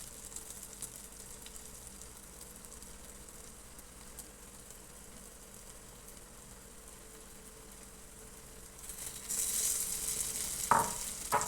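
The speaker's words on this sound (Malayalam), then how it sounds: "ഇതാ എണ്ണ ഒക്കെ നന്നായി ചൂടായി വന്നിട്ടുണ്ട് ഇനി നമുക്ക് ഇതിലോട്ട് ബ്രെഡ് ഇട്ട് കൊടുക്കാം" Bread slices go into well-heated oil in a pan. A quiet background hum gives way near the end to a louder, brighter sizzle and a sharp burst of frying.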